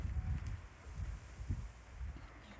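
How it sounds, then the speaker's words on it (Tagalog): Wind gusts buffet and rumble against the microphone in uneven bursts, with faint rustling and no voices. "Mahangin naman, narinig ba? May hangin,"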